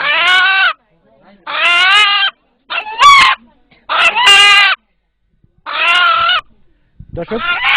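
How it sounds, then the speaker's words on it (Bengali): A rooster crows nearby in several loud, drawn-out harmonic calls, each under a second long and separated by short silences. "এখানে উপস্থিত যারা এই মোরগের ডাক শুনলেন"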